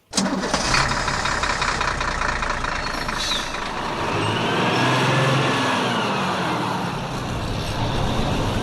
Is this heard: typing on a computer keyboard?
no